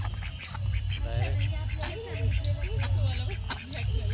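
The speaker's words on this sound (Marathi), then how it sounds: "तर छान अशी ही 3-4 कलरची बदकं आहेत" Several ducks of three or four colours at a resort water park quack in repeated nasal calls over steady low background rumble, with a voice talking intermittently.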